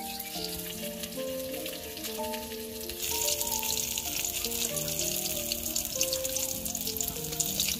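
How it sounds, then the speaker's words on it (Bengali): Rui fish frying in oil in a pan, a continuous hiss and sizzle that grows louder partway through, heard beneath melodic background music. "আমার মাছ ভাজি হয়ে গেছে, এখন নামিয়ে নিব।"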